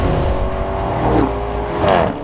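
A Lamborghini Urus SUV's V8 engine revs loudly up close, its deep roar climbing in two rising surges over about two seconds.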